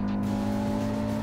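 A race car engine runs flat out on a track, a loud, steady droning roar with strong low harmonics that holds without a break, with no voices over it.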